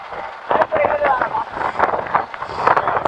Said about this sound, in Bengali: দেন বাতাস চলতেছে, ঠান্ডা ঠান্ডা বাতাস।